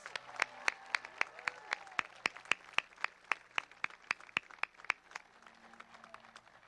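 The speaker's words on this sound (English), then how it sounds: "Let's give them a round of applause." A crowd claps steadily at a women's college soccer national championship celebration, sharp individual claps overlapping in a brisk, sustained round of applause from a mid-sized audience.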